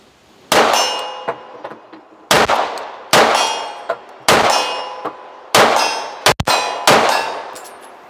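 Rifle rounds strike a steel target 50 yards away, giving about six loud metallic clangs spaced roughly a second apart. Each clang rings and fades, with one quick double hit near the end.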